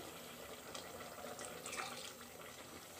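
Water is poured into simmering chana masala gravy in a home kitchen, a steady close splashing pour with a bubbling, liquid texture that runs continuously for a few seconds without talk.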